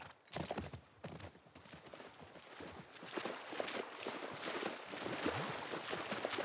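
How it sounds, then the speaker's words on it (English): Horses walking on hard ground in The Last of Us Part II, irregular clip-clop hoofbeats at close range, growing busier and denser over the stretch. "You're gonna have to leave the horses here."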